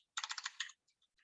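Rapid run of about seven crisp keystrokes as a password is typed on a computer keyboard, close and fairly loud, followed by a few faint scattered clicks.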